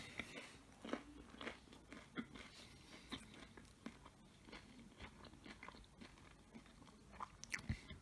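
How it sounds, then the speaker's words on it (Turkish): Potato börek is bitten and chewed close up in a quiet room, giving soft crunching and moist chewing sounds at an irregular rhythm over several seconds. "Şimdi bir adet böreğimizin tadına bakacağız."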